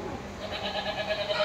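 A white breeding goat bleats in a short, wavering cry, fairly close and moderately loud, with faint background noise and no clear speech.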